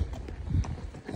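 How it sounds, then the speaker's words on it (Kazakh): Hired horses walking on a trail toward the second Kolsai lake, hooves clip-clopping in a steady, close, uneven rhythm with no talk over them. "Сосын арнаулы бір аттарды жалдап алып, тақымға толымды жілікті аттардан мініп"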